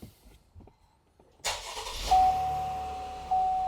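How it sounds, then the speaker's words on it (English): A 2018 GMC Arcadia starts after an oil change: a few quiet clicks, then a sudden crank and catch into a steady idle, with a sustained chime tone sounding over the running engine. "Go ahead and start the car."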